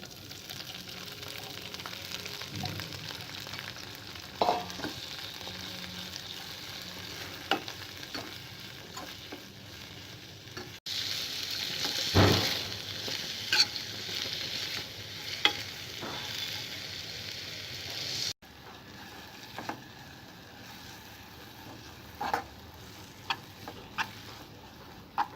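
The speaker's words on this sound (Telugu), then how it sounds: "పచ్చిమిరపకాయలు ఫ్రై చేసుకున్న ఆయిల్లో గోగు పూలను వేసి ఫ్రై చేయాలి" Gogu flowers frying in hot oil left from frying green chilies, a close, steady sizzle with stirring and occasional spatula taps, swelling louder midway when the flowers are stirred, no voices.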